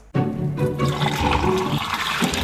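Water pours and splashes in a continuous, fairly loud stream, starting abruptly and gushing steadily nearby.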